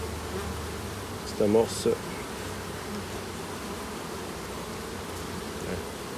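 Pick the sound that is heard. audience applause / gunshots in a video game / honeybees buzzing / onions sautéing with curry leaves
honeybees buzzing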